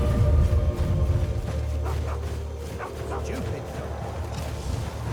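A dog in the video game Skyrim barks and whimpers in short yips over a low, steady ambient rumble, with a voice talking partway through.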